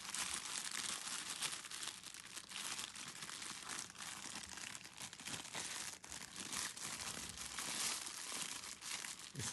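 Close, continuous crinkling and tearing of tight wrapping as a tarot card deck is unpacked, faint but busy rustling with no talk.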